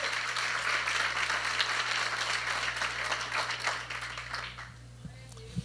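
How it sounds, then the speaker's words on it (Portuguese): A congregation at a sermon applauds with steady, fairly faint clapping over a low electrical hum, thinning out toward the end. "Pode aplaudir mesmo com força"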